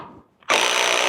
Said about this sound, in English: rattle guns. Really impressed with this thing.